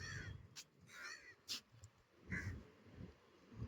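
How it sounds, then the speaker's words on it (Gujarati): Crows caw at the Ahmedabad riverfront, several harsh calls spaced apart over faint low outdoor rumble, fairly near but not loud. "કબૂતર અને કાગડા ફરે છે"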